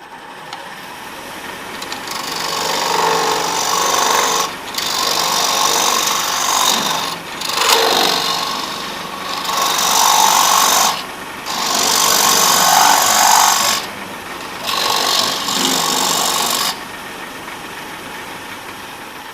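A Hunter carbide tool with a tiny carbide insert cuts wood on a lathe at a woodturning guild demo, making a steady, loud broadband shaving hiss that comes in long passes separated by short breaks.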